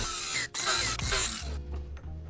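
A fluid line wrapped in electrical tape is cut on a C10 chassis swap with an AWD Escalade drivetrain, giving a loud, continuous grinding, rasping buzz up close that briefly dips and then trails off.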